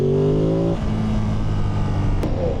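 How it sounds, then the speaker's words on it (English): A 2025 Ducati Monster 937 motorcycle exhaust hums in a strong, close, rising tone, then drops sharply to a lower, rougher drone as the revs fall, heard alone and loud throughout. "I am enjoying the sound of this exhaust."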